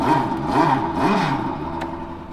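A Porsche RS Spyder race engine recording plays from an overhead speaker in a museum listening booth, a steady mid-pitched drone that surges in a few rising and falling revs, moderately loud and continuous.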